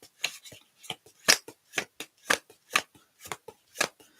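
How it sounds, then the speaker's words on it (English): A small deck of oracle cards is shuffled up close. Crisp, evenly spaced card slaps and riffles repeat steadily in quiet surroundings. "it's hard to shuffle because there's not very many cards"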